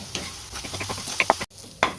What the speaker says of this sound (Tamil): இப்போ எல்லாத்தையும் சேர்த்து நல்லா வதக்கிடுவோம்